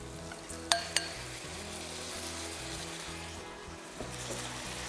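Rice is turned through a meat mixture in a frying pan, giving a continuous sizzle and soft stirring scrapes with two sharp spoon clinks early on, under a low steady background hum.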